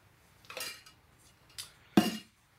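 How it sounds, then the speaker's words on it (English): A metal whisk strikes a bowl while hollandaise sauce is being prepared, three separate scraping clinks, the last one the loudest, close and sparse with quiet gaps between them. "it's also going to, again, give it a lot of stability so that I can whisk with one hand."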